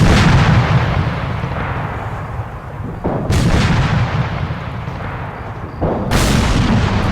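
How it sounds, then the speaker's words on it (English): Artillery fire in Arma 3 with the JSRS3 Dragonfyre sound mod: a dense, continuous rumbling barrage broken by two sudden, loud, close blasts a few seconds apart, with no voices. "And here comes the artillery."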